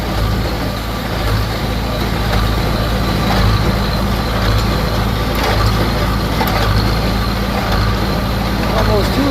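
A square baler running in a hay field, with a steady loud mechanical drone of engine and machinery that continues unbroken, close by and filling the whole stretch.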